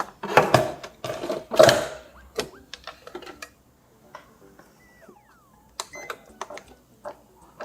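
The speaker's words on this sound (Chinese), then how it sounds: "放到面包机里头搅拌均匀，成团直到它可以拉出一个薄膜为止" Bread machine kneading a dough of all-purpose flour, fine sugar, lard and water, with rhythmic mechanical whirring bursts early on, then lighter intermittent clicks and ticks of the paddle working; no talking.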